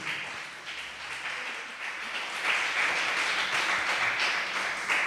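A church congregation applauds loudly, clapping as a dense wash of sound that rises and holds for several seconds.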